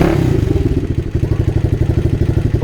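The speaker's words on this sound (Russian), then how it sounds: "сейчас запишем звук Motoland Legend 250 с 4-клапанной головой" A Motoland Legend 250 motorcycle with a 4-valve head and stock muffler idles close by, giving a loud, steady, pulsing exhaust thump with an even rhythm.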